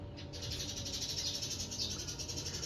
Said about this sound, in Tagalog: Grabe yung mga ibon. Ang dami na naman talaga.